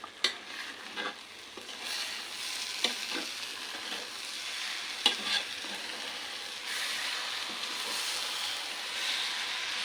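Rice being stirred in a pot while cooking Kerala-style Bukhari rice: a soft continuous sizzle broken by several sharp scraping clicks of a spoon against the pot, close and fairly quiet.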